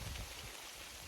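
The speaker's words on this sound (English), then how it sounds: "Just started raining right as I came under this tree." Rain begins falling on a forest stretch of the Appalachian Trail near Clingmans Dome, a soft, steady patter and hiss heard close by with no other sound.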